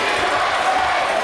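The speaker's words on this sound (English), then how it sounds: "The crowd reaction utterly deafening here." A wrestling arena crowd roars and cheers loudly, a dense, continuous wall of many voices with no break.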